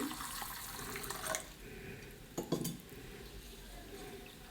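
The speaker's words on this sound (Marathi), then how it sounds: "पाणी घालून दोन वेळा धुवून घ्यायचं" Water swishing and trickling in a bowl as garden cress (halim) seeds are rinsed, with a couple of brief clinks and splashes, fairly quiet and close.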